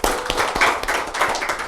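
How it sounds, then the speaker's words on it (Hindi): An audience at an awards event claps together in a dense, close burst of hand claps that continues steadily for the whole stretch. "एक बार जोरदार से तालियां हो जाएंगी।"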